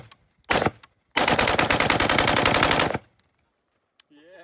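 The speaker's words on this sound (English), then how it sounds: "I'm gonna attempt to bump fire a stock M16." Stock M16 rifle bump fired, a short burst followed by a longer rapid string of loud, close automatic-style shots for about two seconds, then quiet.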